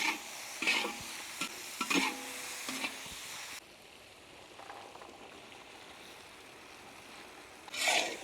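Vegetables stirred in a pan with salt and turmeric, a mixed dish of cluster beans, okra and green beans, giving scraping, sizzling stir strokes for the first few seconds, then a quieter steady fry and a final burst of stirring.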